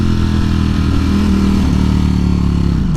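A 2018 Ducati Panigale V4S sport bike idles, its engine a loud, close, steady low rumble with a faint pitch shift just before the end.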